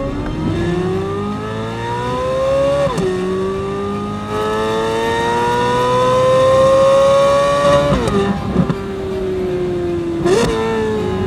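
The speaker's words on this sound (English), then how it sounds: "So not only am I hearing induction noise, I and everybody else in Pennsylvania is hearing the exhaust" A 2023 Corvette Z06 pulls hard, its induction roar and loud exhaust climbing through the revs in long sweeps broken by quick shifts, close and dominant with no talking.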